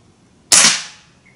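A Hatsan .25 caliber air rifle fires at a target: one sharp, loud, close crack with a quick decaying tail, standing alone against quiet background.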